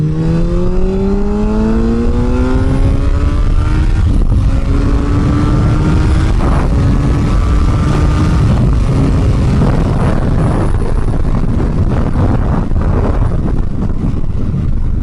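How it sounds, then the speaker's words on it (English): A Yamaha FZ1 motorcycle exhaust is revved hard on a gravel road, the engine pitch climbing through several rising sweeps, loud and close, then settling into a steady rumble as the bike pulls away. "we'll just go ahead and give her a little rip so you guys can hear the exhaust"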